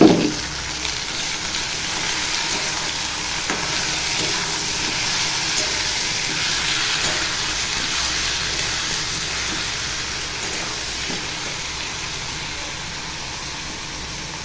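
Ginger paste with chopped and grated onion sizzling in hot oil, a loud steady frying hiss that begins with a sharp burst as the ingredients hit the pan and continues evenly throughout.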